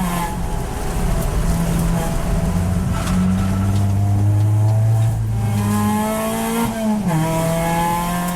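A race car drifts through the carousel bend at Clark Speedway during an endurance race, its engine droning loud and close, pitch rising and falling as the driver works the throttle, with tyres scrubbing underneath.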